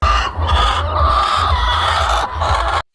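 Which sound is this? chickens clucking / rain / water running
chickens clucking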